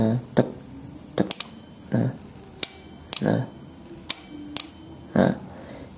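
Relay in a Honda X-Ride motorcycle headlight circuit being converted to an H4 reflector, giving several sharp, close clicks spaced irregularly, some in quick doubles, over a faint background hum.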